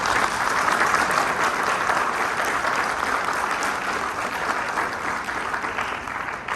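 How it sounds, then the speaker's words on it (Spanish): An audience at a panel discussion breaks into sustained applause, a dense, even wash of clapping that holds steady and only slightly thins toward the end. "Aplausos."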